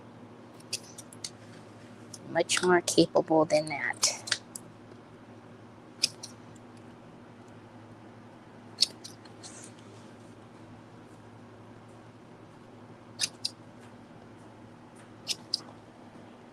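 Scissors snip through craft material for a Dollar Tree lantern project, giving a few sharp, close clicks spaced out over a quiet room tone, with a short burst of talk early on.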